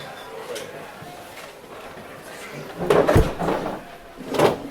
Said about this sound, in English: Good door.